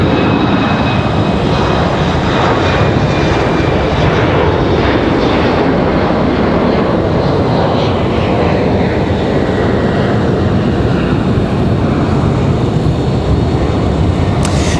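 Loud, sustained roar of a heavy Aeromexico airliner's jet engines on departure at Raleigh Durham International, a broad steady rumble that holds at full strength throughout.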